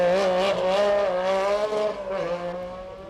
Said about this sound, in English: Tom Spence is motoring his Metro in fine style.